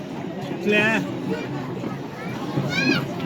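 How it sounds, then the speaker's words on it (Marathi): A crowd of people at the Kalubai temple, a busy babble of many voices with children among them, steady and moderately close. "हे बघू शकता काय गर्दी आहे"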